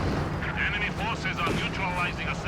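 Gunfire from a Flak Panzer in the World War II strategy game Company of Heroes 2, continuous rumbling battle noise with bursts of fire running throughout, mixed under a commentator's talk.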